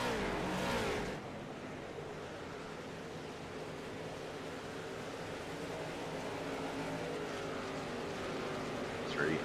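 Sixteen race cars run laps on a track in the iRacing sim, a steady distant engine drone that holds even and moderately quiet throughout, with a brief louder burst at the start.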